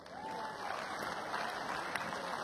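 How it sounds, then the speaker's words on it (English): A crowd at an exhibition tennis match between Djokovic and Dimitrov at the Boodles 2013 gives steady applause for a tournament worker, faint and distant, lasting a couple of seconds. "So can we have a round of applause for Cliff?"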